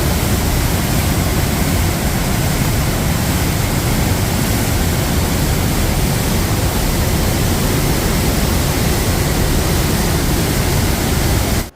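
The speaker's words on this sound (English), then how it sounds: "You can probably hear the cascades in front of us now." Trümmelbach Falls in Lauterbrunnen, Switzerland, cascading inside the rock with a loud, constant, close-up roar of rushing water that never lets up.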